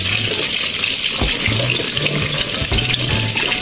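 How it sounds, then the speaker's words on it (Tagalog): Eggs are washed under a running kitchen tap, with a loud, steady gush of water broken by short splashes and knocks as the eggs are turned in the stream; no one talks. "So ngayon guys, hugasan natin itong itlog natin."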